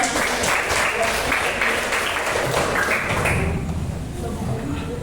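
A classroom crowd of sixth-graders claps steadily and densely for several seconds, the applause tapering off toward the end with a few voices mixed in.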